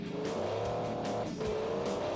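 A car with a huge, low-revving engine powers hard out of a corner, its deep engine note loud and close and holding steady throughout the short burst of acceleration.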